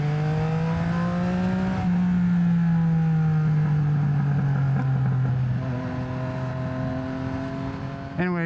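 A 2023 Yamaha XSR900 motorcycle with an SC Project exhaust and no catalytic converter, engine droning steadily then shifting in pitch as revs change, close and loud, with a brief sharp burst near the end.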